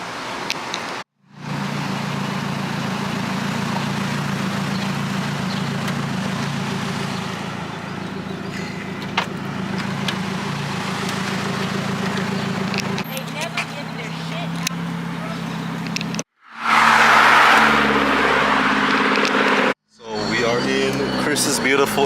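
Nissan S15 Silvia, right-hand drive, heard from inside on a ride-along: a steady engine drone and road noise under light throttle, with brief cutouts and a louder rev toward the end.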